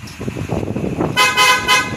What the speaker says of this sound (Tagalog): boss, subukan mo naman magbusina, stock horn